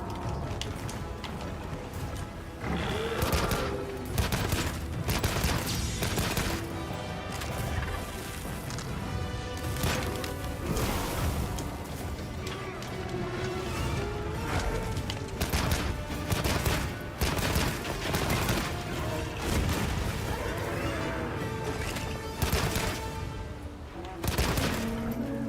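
Repeated weapon fire in Monster Hunter Wilds during a monster hunt, steady loud impacts and bursts over busy game sound and music throughout, with some talk at points.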